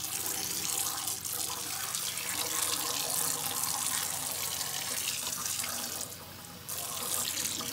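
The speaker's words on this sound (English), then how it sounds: "So I'm going to just let this run for a while and even fill it up with a little bit of water." A tap runs water into a rinse tray for cyanotype prints, a steady close splashing stream that briefly dips in level near the end before continuing.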